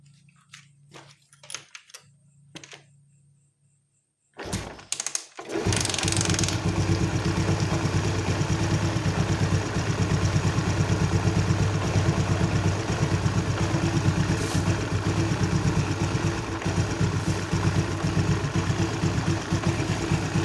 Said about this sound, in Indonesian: Oke, selanjutnya kita nyalakan motor.